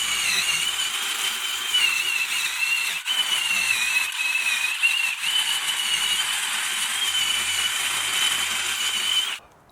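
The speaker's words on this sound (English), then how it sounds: "I'm gonna use a wire brush, clean it all up, wipe it down." A wire brush scrubs a rear brake hub on a 2001-2005 Lexus IS300 before a new rotor goes on, a continuous raspy, whirring scrape held at close range for several seconds before stopping abruptly.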